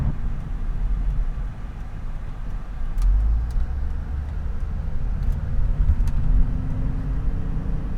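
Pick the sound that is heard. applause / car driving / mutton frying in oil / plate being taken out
car driving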